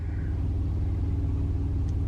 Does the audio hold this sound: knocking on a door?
no